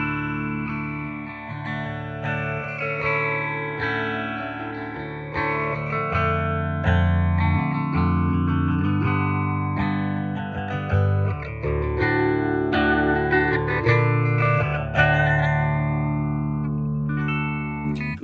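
Electric guitar played through a vintage phaser pedal into a TONEX amp-modeling rig, with sweeping, swirling chords and single notes ringing continuously and fairly loud for the whole stretch, with no voices.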